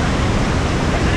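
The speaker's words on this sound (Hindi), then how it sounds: "जो ये नज़ारा आप देख रहे हैं ये वाटरफॉल का है हलाली डैम का" Waterfall at Halali Dam in Madhya Pradesh, heard as a steady, loud, broadband rush of falling water that fills the whole moment without a break.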